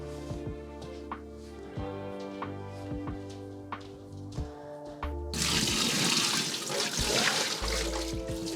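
Dirty water from the tank of a hired Britex carpet and upholstery cleaner, after cleaning a dumped lounge, is poured into a sink, a steady gushing splash starting midway and running on loudly after quieter handling noises, with no talking.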